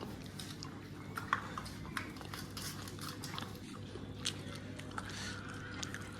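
Panipuri is being eaten up close, with soft crunchy bites and wet chewing sounds scattered over a low steady background hum, a few sharper crunches standing out.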